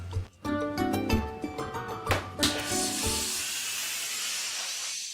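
A bottle of fizzy fermented rye orange soda is opened, giving a sudden loud hiss that settles into a sustained bright fizzing, after a few seconds of clinking and background music.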